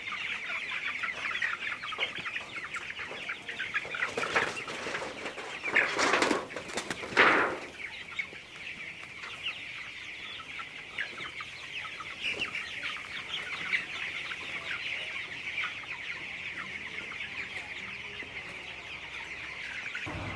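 Chickens on a poultry farm cluck and call continuously, with many birds heard at once, a steady high chorus, and a louder burst of squawking partway through.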